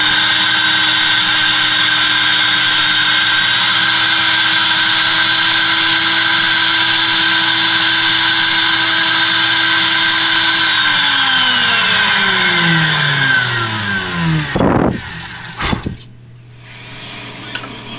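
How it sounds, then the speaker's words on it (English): A router cuts a slot around a segmented wooden bowl ring, its loud, steady high whine running for a long stretch before the motor is shut off and spins down, followed by a couple of clunks. "we just go around here cutting a slot"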